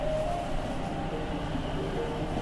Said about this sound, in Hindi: आनंद विहार से ट्रेन अब चल चुकी है साहिबाबाद की तरफ।